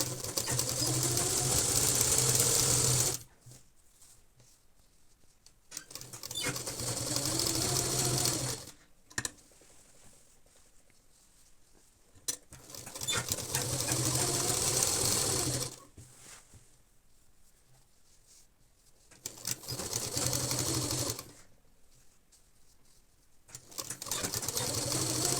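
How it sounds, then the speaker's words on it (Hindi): A sewing machine stitches a seam along the neckline of a kurta, running in steady loud whirring bursts of several seconds each, with three stitching runs separated by quieter pauses. "अब हम एक सिलाई गले के ऊपर लगा देते हैं।"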